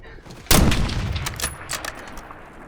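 Gunfire in Call of Duty Black Ops: a sharp, loud shot followed by a decaying rattle of further scattered shots and echoes.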